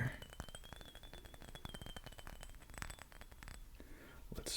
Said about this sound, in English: So here's a couple bottle noises for y'all out there.